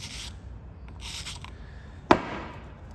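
A handheld deburring tool scrapes the burr off the outer edge of a pipe, making a few soft scraping strokes and one sharp, brief scrape near the end, close and quiet, no voices.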